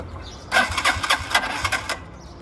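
A cold Tofaş car engine cranks in a rapid, rhythmic chug for about a second and a half, then stops without catching.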